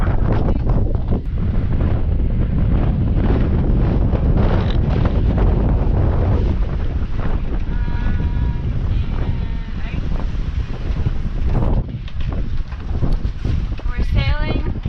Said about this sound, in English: We're sailing. It's really windy.